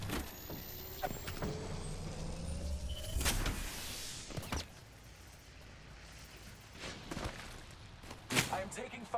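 Incoming gunfire striking the player in Apex Legends, a few sharp, isolated impacts and shots spaced apart over a low ambient bed, moderately loud against a quiet background.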